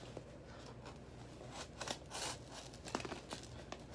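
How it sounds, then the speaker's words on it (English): Box cutter slicing out a wreath outline, faint scratchy cuts and crinkling scrapes coming in short uneven strokes, quiet and close. "So then you'll use your box cutter and you'll cut out that outline."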